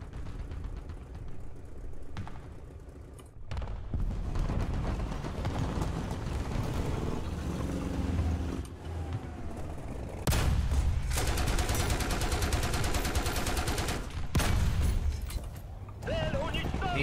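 Bursts of video game gunfire crackle in rapid volleys amid mechanical clatter, with voices talking over the action.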